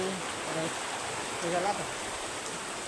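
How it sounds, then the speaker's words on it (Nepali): Water in a small river streams past in a constant close rushing wash, while a voice speaks briefly over it. "यस्तो खोलामा पानी बगिरहेको छ"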